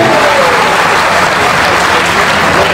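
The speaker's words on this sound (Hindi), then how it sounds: "जोरदार इनके सम्मान में आप ताली बजाएं" Loud, dense applause from an audience at a stage event honoring a guest performer, a steady wall of many hands clapping that fills the whole moment without a break.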